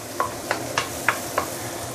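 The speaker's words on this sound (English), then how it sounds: "Use a medium high heat to saute the chili" Chili sautéing over medium-high heat in a stir-fry pan for a jade perch dish, with a soft steady sizzle and five evenly spaced sharp scrapes of a utensil stirring, fairly close and with no talk.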